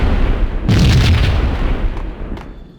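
A heavy explosion in the Max Payne video game, booming loud and close, with a deep rumbling blast that slowly fades into a roaring tail.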